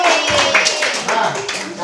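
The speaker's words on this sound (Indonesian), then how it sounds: "tepuk tangan buat kita semua dulu" Fifth-grade children in a pencak silat lesson clap their hands together in a short, close burst of scattered claps, with voices chattering underneath.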